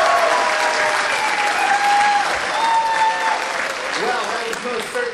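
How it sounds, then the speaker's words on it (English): An audience claps loudly and steadily for the MJC speech and debate team at a Modesto Junior College speech night, a dense sustained ovation with a voice briefly rising over it near the end. "Have a big round of applause for the MJC speech and debate team."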